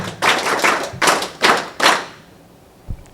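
NCC cadets at a school naval unit inauguration give a short burst of applause, several thumping waves of clapping over about two seconds, then it dies away with a lone thud.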